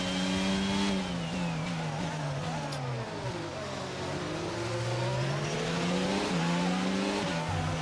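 F1 race car engine in a racing video game, revving up and down through gear changes with high whining pitch sweeps, loud and close, continuous with no talking.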